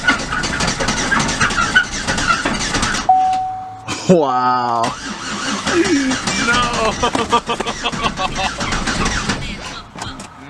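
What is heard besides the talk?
wrecked Chevrolet Impala engine cranking and trying to start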